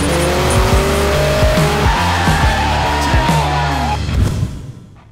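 Cars at a drag racing event in Davao, Philippines, roar loudly up close, revving and shifting through rising engine tones with tire squeal and skidding, before the noise fades away at the end.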